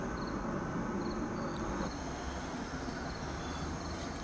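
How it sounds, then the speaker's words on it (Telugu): A train at a railway station makes a steady, heavy rumble with a brief shift partway through, continuous and fairly close, with no talk. "3 minutesలో నా ట్రైన్ వస్తుంది"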